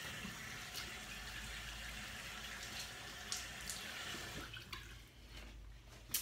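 Water runs from a sink tap in a steady, faint splashing stream, with a few drips and splashes as hands wet a face before shaving, ending with quieter trickles.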